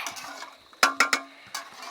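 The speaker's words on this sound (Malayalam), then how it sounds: "ഇനി ഒന്ന് ഇളക്കി കൊടുക്കാം." A spoon stirs rice into boiling water in a metal pot for prawn dum biryani, giving a quick run of close metallic clinks and scrapes against the pot's side.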